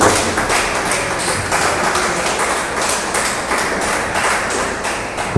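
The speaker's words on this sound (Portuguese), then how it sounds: "louva o Senhor Jesus com as palmas bem alegres" Church congregation clapping hands in joyful praise, a dense steady roar of many palms lasting throughout, loud and close with no speech.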